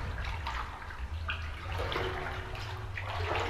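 Unnatural, steady rushing water in The Complex: Found, a Backrooms exploration game, a dense, continuous wash with a few brighter splashy swells, no voice over it.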